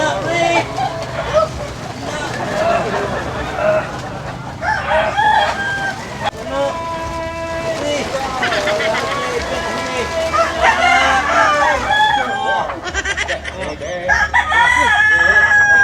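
Chickens and roosters crow and cluck repeatedly in a busy scene. Loud calls overlap with people talking close by, and the voices and bird sounds mix throughout.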